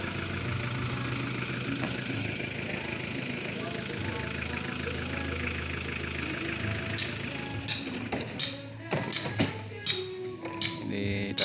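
A three-wheeled cargo vehicle delivering cement idles with a steady, mid-pitched engine chug; toward the end, clattering knocks and a voice come in over the running motor.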